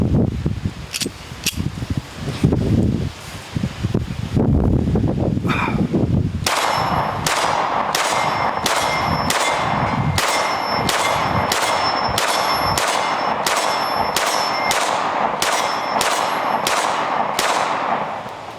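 Rapid suppressed pistol-caliber carbine fire at a range, each shot followed by a ringing metallic clang of steel targets being hit, a steady string of evenly spaced impacts after some scattered earlier shots.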